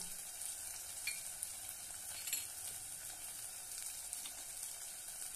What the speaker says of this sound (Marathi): आता छानपैकी परतून घेऊया